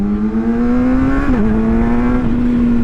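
A vehicle engine revs hard with quick-shifter gear changes, a strong steady drone that breaks into brief dips and jumps in pitch as each gear snaps through, loud and close with no talk.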